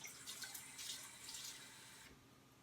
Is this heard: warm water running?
yes